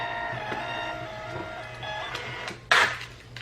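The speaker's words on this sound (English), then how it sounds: "Let's get it out of the way of the printer at least. And print," A thermal printer printing a shipping label gives a steady mechanical whir with faint rhythmic ticks, then a brief louder tearing burst near the end as the label is torn off. Nobody speaks.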